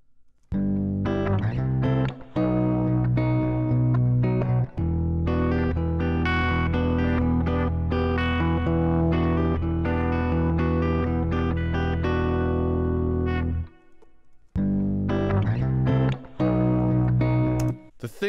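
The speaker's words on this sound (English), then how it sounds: "It's kind of gives it like a little bit of weird distortion, and it brings it to life a little bit." Electric guitar played as a bass line through a Phase-4 audio-rate effect, giving a gritty, oddly distorted tone; loud sustained notes with rhythmic plucks, a brief near-silent break before playing resumes.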